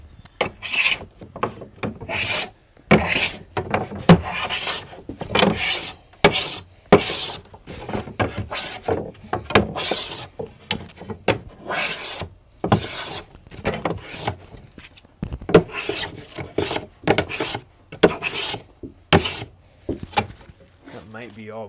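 Hand plane shaving a wooden historic window part, repeated rasping strokes in a steady irregular rhythm, close and fairly loud, with short pauses between passes.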